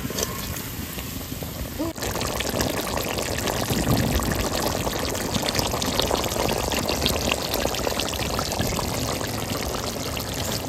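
Pointed gourds are dropped into boiling water in a cooking pot, bringing a steady, fairly loud bubbling and pouring wash that swells after an initial quieter moment and continues unbroken.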